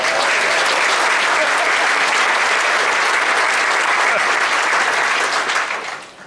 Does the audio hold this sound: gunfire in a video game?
no